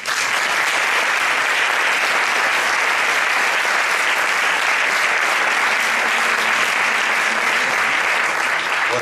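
Sustained, dense applause from a flamenco singing contest audience, the final of a cante flamenco competition in Leganés, steady and loud throughout with no pauses.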